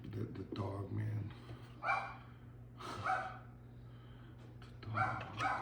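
A dog indoors at a kitchen table gives several short, sharp barks and yips spaced across the moment, fairly close, over a low steady hum with a voice briefly present.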